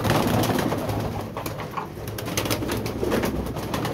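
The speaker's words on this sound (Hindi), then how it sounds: "ये देखें जाते जा रहे हैं कबूतर सारे ऊपर ना।" Pigeons coo softly amid a dense, noisy outdoor background in bad weather, with faint flapping and rustling throughout as they are released to fly up.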